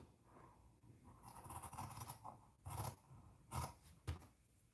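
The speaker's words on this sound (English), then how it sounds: "But I am going to trim down this just a bit." Scissors trim fabric for small preemie shorts, a few crisp snips and scraping cuts spaced through the moment, close and fairly quiet with no talking.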